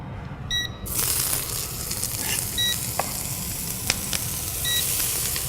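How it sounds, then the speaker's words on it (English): Flour-coated onions seasoned with salt and pepper hit a hot pan and sizzle loudly and steadily, with scattered crackles and pops and a couple of short electronic beeps over the frying. "So popping the onions in the pan"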